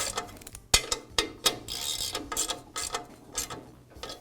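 Bolts being tightened on the belt cover of an MK Diamond tile saw, heard as a series of sharp metallic clicks and ratcheting taps, spaced irregularly and close by.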